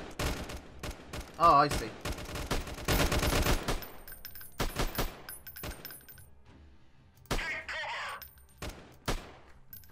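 Gunfire in the guerrilla warfare video game Freeman: Guerrilla Warfare, with dense bursts of shots and volleys that come and go over ten seconds, loud and close, with a brief spoken remark in between.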